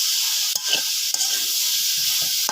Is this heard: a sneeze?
no